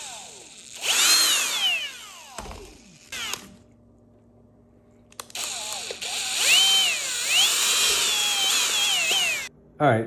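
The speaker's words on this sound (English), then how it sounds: "I'm going to use a much smaller drill bit to go ahead and get it started" Small drill bit boring into the fabric of a Ford Bronco soft top, a high whining power drill running in two long bursts with a short pause between, close and loud, with some handling noise.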